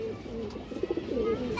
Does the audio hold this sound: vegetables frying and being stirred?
no